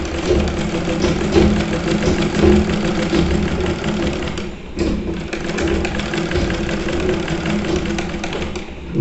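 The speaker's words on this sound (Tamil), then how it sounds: "இதுக்கு பக்கத்துலேயே மிதியோட தையல் போட்டு பழகிக்கலாம்" A treadle sewing machine stitches a curved seam, giving a steady, continuous mechanical whirring and rattling throughout, with a brief pause about halfway.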